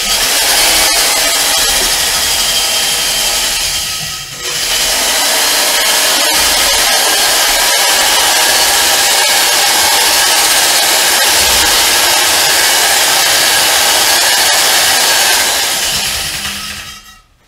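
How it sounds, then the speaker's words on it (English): A power drill whines loudly and continuously with a harsh abrasive grinding as it removes rust from a cast iron skillet, dipping briefly partway through, then winding down at the end. "So we'll see what happens with the drill."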